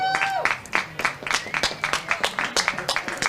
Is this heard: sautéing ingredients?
no